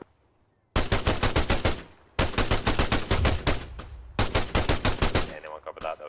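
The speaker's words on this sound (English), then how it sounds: "I think Hunter 2 is getting shot, that's what I heard." Dense bursts of automatic gunfire in the military video game Arma come in three long, loud, rapid volleys separated by brief pauses, close and continuous, with no talking.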